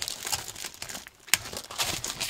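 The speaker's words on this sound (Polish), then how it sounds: "Także ja tutaj troszeczkę folię odchylę." Plastic film being peeled back from a Commodore 64 case: soft crinkling and rustling, close and moderately loud, with one sharper crackle partway through and no talking.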